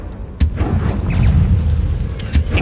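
Confringo explosive spell in Hogwarts Legacy: a single loud, close blast that hits sharply and leaves a heavy rumbling tail, followed by a smaller pop near the end.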